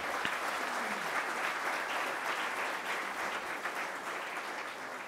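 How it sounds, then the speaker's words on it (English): Steady applause from a large audience at a journalism awards ceremony, continuous and even throughout, heard at a moderate distance without any talking. "I think you need a collective round of applause."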